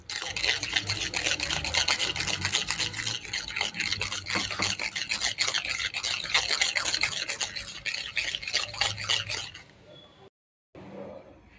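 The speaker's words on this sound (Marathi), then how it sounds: "यामध्ये आपण आता वेलची पूड घालू, त्यानंतर केशरचे धागे घालू आणि व्यवस्थित पुन्हा फेटून घेऊ।" Steady, rapid scraping and brushing as shrikhand, a sweet strained yogurt, is whisked in a bowl with cardamom powder and saffron strands, the rhythmic rasping continuing close up before stopping abruptly near the end.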